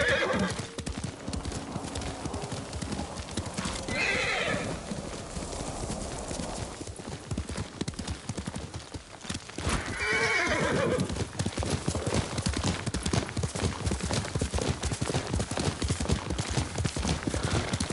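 A horse's hooves clop rapidly in a steady galloping rhythm in the video game Ghost of Tsushima, broken twice by loud whinnies, with the pounding continuing throughout.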